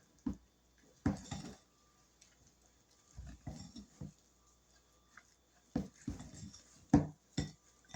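Maple syrup being mixed into sweet potato pound cake batter, with several short bursts of spoon scraping and clinking against a bowl, separated by quiet pauses and a sharper knock near the end.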